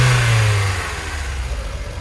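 A running NB Mazda Miata engine with a reported tick after an oil system treatment hums steadily up close, and a faint ticking under the drone is hard to pick out.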